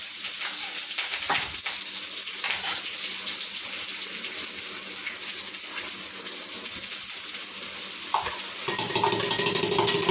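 Crushed beetroot sautéing in a pan: a steady, dense sizzle and hiss runs throughout, with occasional scraping stir sounds and soft clinks, close and fairly loud with no talking.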